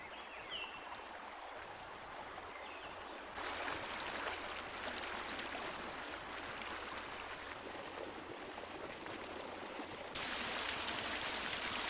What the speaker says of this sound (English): The forest floor is lush, with streams wandering through the woodlands on their way to the Pacific.